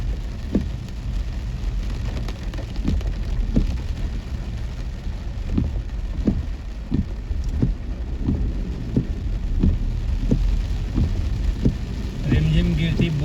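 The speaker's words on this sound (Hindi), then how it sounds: "अब देखो बरसात हो रही है" Heavy rain falls steadily in Mahapoli under a red alert, a dense close hiss with repeated low rumbling thumps like distant thunder throughout.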